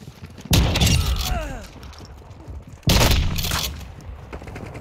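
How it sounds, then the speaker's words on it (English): Two loud shotgun blasts in a Call of Duty Modern Warfare 2 match, each a sharp booming crack followed by a short rattling tail, spaced a couple of seconds apart, with game noise between. "Sniping him with a shotgun, bro."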